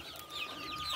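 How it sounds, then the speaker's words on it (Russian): A large Brahma rooster clucking close by in a poultry yard, a brief, soft run of clucks over faint background noise, with no talk. "Вот какой петух брама."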